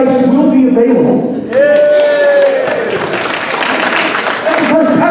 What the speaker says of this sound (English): That's the first time merchandise has got a round of applause.